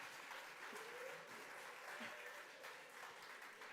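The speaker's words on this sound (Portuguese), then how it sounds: "Não aplaudam, meu Deus do céu!" An audience at a volunteers' gathering in the Sanctuary of Fátima claps in a dense, sustained round of applause, a steady wash of many hands heard from within the crowd.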